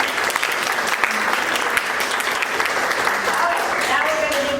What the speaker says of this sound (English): So can we get a round of applause for our guests?